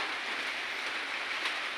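Light rain or drizzle falls in a steady, even hiss with no distinct drops standing out, close and continuous throughout with nothing else heard.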